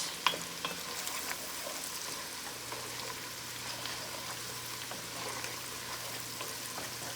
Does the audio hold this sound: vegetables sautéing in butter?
yes